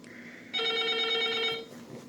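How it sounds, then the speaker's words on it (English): A telephone rings in a room, a bright sustained electronic trill lasting about a second, loud and clear over a quiet background, with no talking. "Sorry about the phone."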